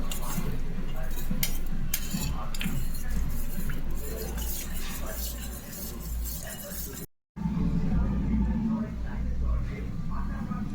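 Sauce being stirred and whisked in a bowl for paneer chilli gravy, giving steady clinking and scraping of a utensil against the bowl under a continuous low background, with a brief gap near the end.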